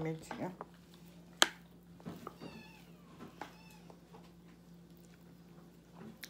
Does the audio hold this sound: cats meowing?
yes